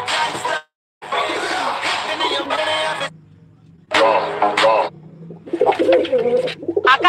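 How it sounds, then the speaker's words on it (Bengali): Pigeons of the Rajshahi giribaz breed coo close by in bursts, with fluttering and other bird sounds mixed in and short quiet gaps between. "আকাশে অনেক কবুতর উড়তাছে, কিন্তু কিছু কিছু কবুতর রে খুঁজতে পাওয়া যাইতাছে না"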